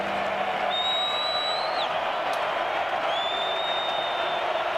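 College football stadium crowd during a UT Martin versus Montana State game, a constant broad roar of many voices with distant whistles and scattered shouts, steady and loud throughout.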